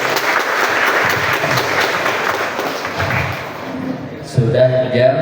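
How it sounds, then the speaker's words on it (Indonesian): Audience applause in a classroom, dense and continuous clapping for about four seconds that fades out, followed by a short burst of louder nearby sounds and voices. "Tepuk tangan sekali, Masya Allah."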